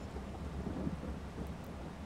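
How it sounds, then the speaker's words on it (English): Steady rain with low rumbling thunder in Farming Simulator 22, a continuous dense wash of noise with a deep roll building and fading, no voices. "we need to wait until it stops raining as well"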